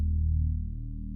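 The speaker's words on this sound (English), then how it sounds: "It's just a little bit of a fuzz amp sound." Gritty fuzz-amp distortion on a mid-range synth layer built in Bitwig Studio for an impact sound, a sustained low, buzzing drone that holds steady and fades slightly toward the end, heard alone.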